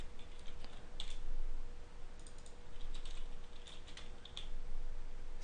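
Steady clatter of fingers typing code on a computer keyboard, a continuous stream of quick, close clicks with no talking.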